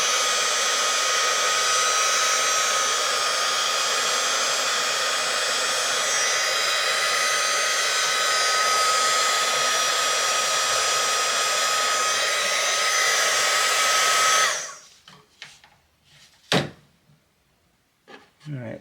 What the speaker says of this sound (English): So I have to use heat. So I got a heating gun to do it with.